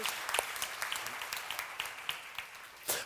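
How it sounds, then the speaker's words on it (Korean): Congregation at a church seminar claps together, a fairly faint, brief patter of hands with a few sharper individual claps standing out before it fades. "박수 치시기 바랍니다"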